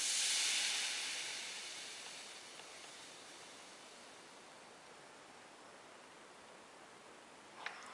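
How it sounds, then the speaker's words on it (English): A steady steam hiss from an iron pressed on hemming tape, loudest at the start and slowly fading to a softer constant rush, with a brief click near the end. "you're just going to press down on it for 15 seconds. You're going to hear it steam"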